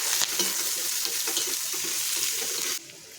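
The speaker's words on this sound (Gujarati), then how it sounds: "અને આપણે અહીંયા થોડું ફ્રાય કરી લઈશું" Ginger, garlic and green chillies fry in a pan over medium heat with a loud, continuous sizzle and light stirring, before the hiss drops sharply near the end.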